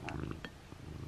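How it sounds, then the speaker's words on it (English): A cat purrs in a low, steady rumble that is quiet but continuous, with a few brief higher sounds over it. "I don't know if you guys can hear her purring, but she's purring so freaking loud."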